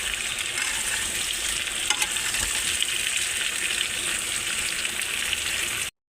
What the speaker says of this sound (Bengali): আমি একটু নাড়িয়ে দিলাম